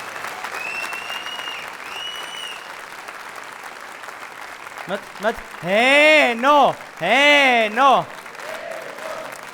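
Studio audience on a sports talk show applauding, a continuous clapping wash that runs throughout, with a host speaking loudly over it in the second half.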